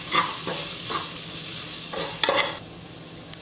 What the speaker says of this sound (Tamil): தனியாத்தூள், உப்பு, மஞ்சள் தூள், இது எல்லாத்தையும் சேர்த்து இப்போ நல்லா மிக்ஸ் பண்ணிக்கலாம்